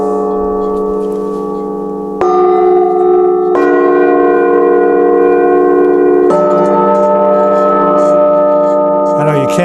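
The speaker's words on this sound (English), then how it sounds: "they have very much a church bell sort of sound. A lot of overtones." Burmese bell plates struck in turn, ringing with rich church-bell-like overtones; four loud strikes layer into a sustained shimmering resonance, ending with a faint clatter.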